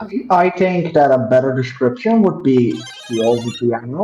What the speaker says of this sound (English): That's my phone text notification.